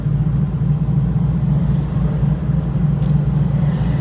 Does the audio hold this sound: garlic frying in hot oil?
no